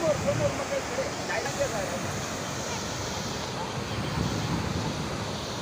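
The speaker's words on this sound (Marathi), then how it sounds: "हे बघा पाणी ह्या धरणाच्या पुढे ओसांडून जाते" River water spilling over and past a dam, a continuous broad rushing wash heard outdoors, with a voice briefly at the start.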